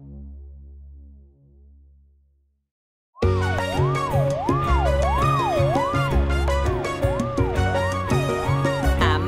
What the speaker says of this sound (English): Amber has a siren to warn us